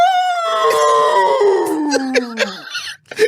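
A drawn-out wolf howl sound effect, loud and close, sliding slowly downward in pitch over about three seconds before breaking into a few short yelps and fading out.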